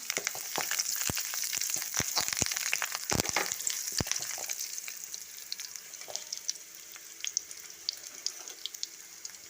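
Green chilies and curry leaves frying in hot oil for a homestyle mutton curry, giving a steady crackling sizzle with sharp spattering pops that thin out over time, close and alone without voices.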